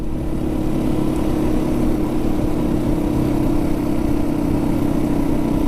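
A Yamaha WR450F motorcycle engine runs with a steady, loud, buzzy drone and a constant low note, holding even throughout with no obvious rise or fall in pitch.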